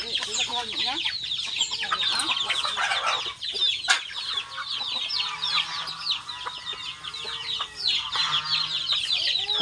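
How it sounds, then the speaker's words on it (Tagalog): Many young chickens cluck and chirp continuously nearby, a busy flock chattering with occasional louder calls. "yung mga maliliit pa na manok ko"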